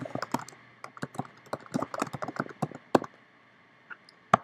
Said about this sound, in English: type the name here.